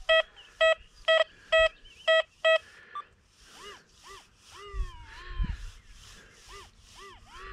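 Metal detector, either an XP Deus 2 or a Minelab Equinox 800, sounds a run of six evenly spaced, sharp electronic tones over a buried target in the field, then falls to softer rising and falling warbling tones and faint rustling.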